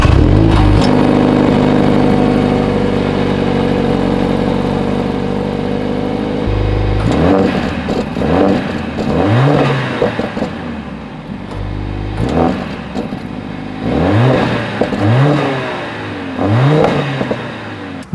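A Mercedes A45 S AMG idles with a deep, loud drone, then gets several sharp throttle blips. Each rev swells and falls back, with short pauses between them.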